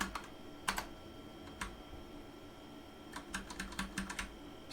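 Computer keyboard typing while updating Zig code, quiet irregular clusters of key clicks over a steady background hum, with no talking.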